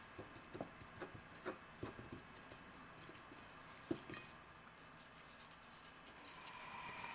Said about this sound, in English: lightly sprinkle the top with the gray salt and gently rub it into the surface so it sticks